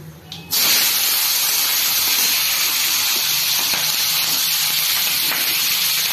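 Spring onions drop into a hot pan of oil with black cumin seeds, setting off a sudden loud sizzle that settles into a steady, close hiss.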